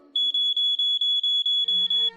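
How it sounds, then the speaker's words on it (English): A smoke alarm beeps rapidly and loudly in a steady high-pitched rhythm, about ten short pulses, with faint background noise underneath. "That's the sound of the smoke alarm!"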